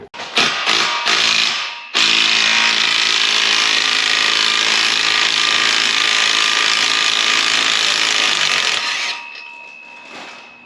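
A power tool spins off the exhaust nuts on a 2021-2025 Subaru WRX. A few short bursts and rattles lead into a long, loud, steady high-pitched whir that winds down near the end.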